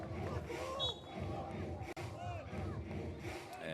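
Crowd at a FIBA 3x3 basketball Europe Cup qualifier in Kosovo murmurs and cheers in a diffuse wash of voices, heard faintly beneath a commentator's speech with occasional whistles and squeaks.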